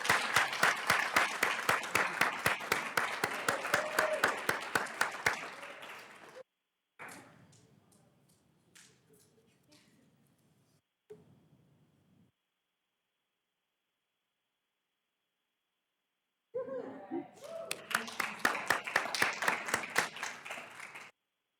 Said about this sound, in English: How about one more round of applause for Jacob?